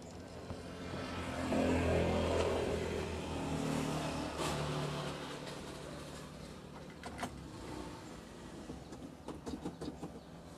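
A Suzuki Zebra Espass engine, previously troubled by stumbling, cranks and catches, then idles with a low rumbling drone that swells early and settles, followed by faint clicks near the end; no talk.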